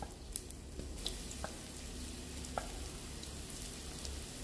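Potato pieces coated in crispy-fry flour batter frying in hot oil, giving a steady close sizzle with scattered small pops and crackles and no voices.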